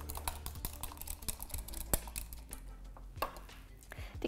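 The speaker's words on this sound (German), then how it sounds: "Kräftig verrühren." Nutmeg, lemon juice, salt and pepper whisked hard into a mixture in a bowl for a potato and leek vegetable sheet cake, giving quick, irregular clicking and scraping taps close by, with no talk.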